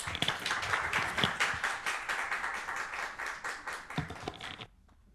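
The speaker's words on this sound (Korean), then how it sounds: "나오실 때 큰 박수 드리겠습니다." A church congregation at a Sunday service applauds: steady, dense clapping for several seconds, fairly distant, then it stops abruptly into near-silence.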